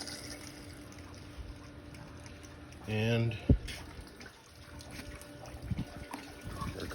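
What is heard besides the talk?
water flowing through Jabsco quick connect outboard flush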